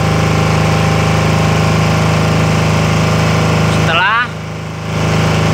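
A Tsuzumi TDG15000S-3 generator set runs loud and steady with a constant droning hum, then briefly shifts pitch and dips near the end as the load switches over, all without talk.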